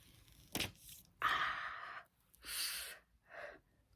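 A makeup layer is peeled away from skin in a few short, close tearing strips separated by brief pauses, with breathy sounds between them and no talking.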